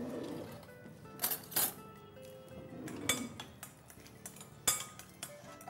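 A small spoon clinks lightly against dishes in a kitchen, a few faint, separate metallic chinks and taps spread over a quiet background.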